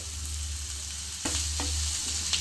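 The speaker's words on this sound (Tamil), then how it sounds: "நல்லா கண்ணாடி பதம் வர அளவுக்கு நல்லா ஃப்ரை பண்ணிக்கோங்க" Hot oil sizzling steadily as onions fry in a pan, with a few stirring scrapes and clinks partway through.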